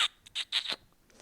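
A human voice imitates the squealing cry of a wounded rabbit to lure a fox, made from an open car window: a quick series of shrill, squeaky bursts close by, with no other sound.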